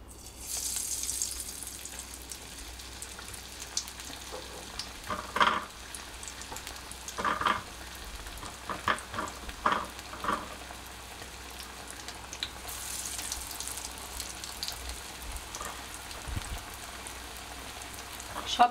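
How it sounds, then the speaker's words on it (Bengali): Pumpkin-leaf fritters coated in poppy seeds frying in oil: a low, steady sizzle with a few soft knocks and stirring clatters scattered through. Quiet and close, with no talking. "এবার আমি ভাজবো এটা"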